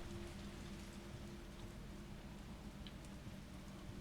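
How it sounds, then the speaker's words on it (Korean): Rain falling outside in the video game Resident Evil 3 Remake, a steady, even hiss of rainfall on surfaces with a low rumble beneath, continuous and fairly quiet. "밖에 비가 내리고 있고요"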